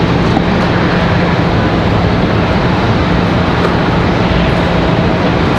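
A Frontier Airbus A321neo airliner arriving at Raleigh-Durham International Airport, heard as a loud, steady, broadband jet roar that holds constant throughout with no voices.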